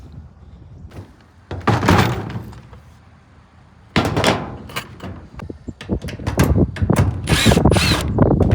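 A power drill drives washer-head screws into a metal barn roof, with a short whirring burst early on, a pause, then a longer run of rapid buzzing bursts and clunks up close.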